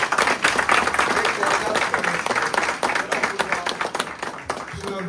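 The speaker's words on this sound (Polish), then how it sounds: "wielkie brawa dla Marcina" Crowd applause for the winner of an amateur fishing competition, a dense steady patter of clapping from a gathered group that carries on for several seconds without letting up.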